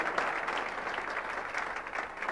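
Steady applause fills a room at an IMC business meeting as the audience honours a chief guest, a dense wash of many clapping hands, moderately distant and unbroken, with no talk over it.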